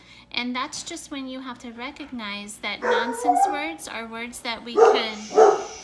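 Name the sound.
dog barking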